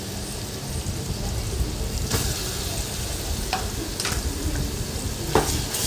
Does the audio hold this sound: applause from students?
no